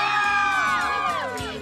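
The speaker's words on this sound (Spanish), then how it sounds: "Ahí está la gente emocionada gritando aquí en la colonia Primero de Diciembre." Children and adults in a neighbourhood crowd shouting and cheering excitedly for Santa's visit, a loud sustained burst of overlapping whoops and yells close by.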